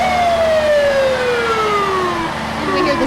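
A Waverly Municipal Hospital ambulance siren wails continuously with a slowly falling pitch during the 1993 Waverly, Iowa Heritage Days parade, loud and steady over a low background hum of traffic.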